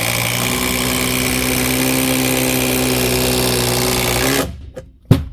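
An impact driver sinks a 175mm screw into a pine sleeper, a loud continuous whirring drone with a rapid hammering buzz that holds steady for over four seconds, then cuts off, followed by a couple of short knocks.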